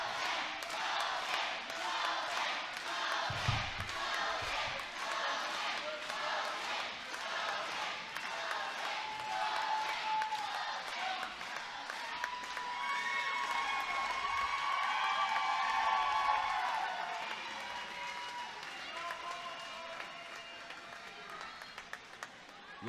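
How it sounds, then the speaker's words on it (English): A wrestling crowd at an indoor show roars, cheers and applauds steadily throughout, with rhythmic clapping and shouts forming a dense, sustained wash of noise. "Listen to this crowd."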